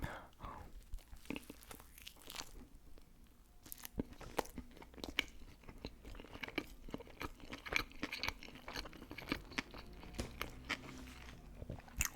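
Chewing McDonald's food close to the microphone in a French ASMR tasting session, with dense wet crunches and bites in a steady stream for the whole stretch and soft whispered talk running underneath.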